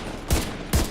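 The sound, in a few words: gunfire from a gun in the video game The Division 2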